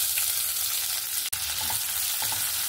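Chopped onion sizzles and fries in hot oil with cumin and bay leaf, a steady close crackle that dips briefly near the middle, then carries on with light stirring.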